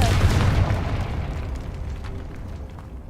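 A Confringo fire-blast spell explodes in Hogwarts Legacy, a loud booming burst at the start that rolls into a long decaying rumble and crackle over about three seconds.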